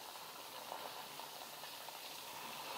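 Nippattu, crisp rice-flour snacks, frying in oil deep enough to submerge them, giving a steady, even bubbling sizzle with no talk over it.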